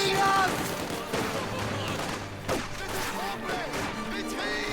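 Rattling small-arms and machine-gun fire pours onto conscript infantry in the World War II strategy game Company of Heroes 2, with dense bursts, explosions and battlefield clatter running continuously under a commentator's voice.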